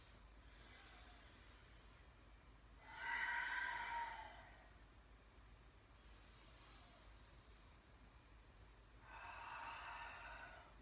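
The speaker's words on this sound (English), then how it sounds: "We'll take 3 breaths." Deep, slow breaths drawn in and let out during a yoga ragdoll forward fold, two fuller breaths standing out against quieter ones, close and soft with no talking.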